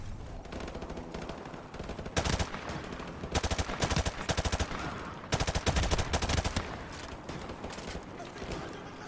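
M4 rifle fire in Modern Warfare Remastered, several sharp rapid bursts of close automatic shots separated by short pauses, with quieter battle noise between them.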